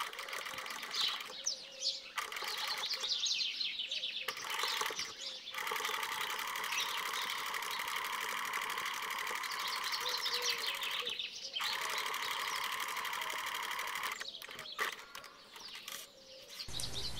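A sewing machine runs a seam half a centimetre from the fabric edge all the way around, a steady close whirring hum that stops briefly several times before resuming, with no voices.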